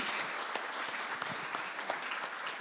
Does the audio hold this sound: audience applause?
yes